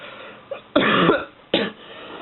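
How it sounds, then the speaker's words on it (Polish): Two close, harsh coughs a moment apart, preceded by a faint short throat sound, with no talking. "Ale mnie kaszel męczy."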